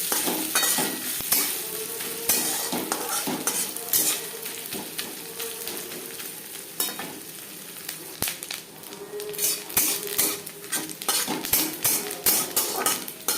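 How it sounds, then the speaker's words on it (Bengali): Grated coconut frying in a pan with a continuous crackling sizzle, punctuated by repeated scraping and clinking of a spatula against the pan. "নারকেল লালচে করে ভেজে নেব"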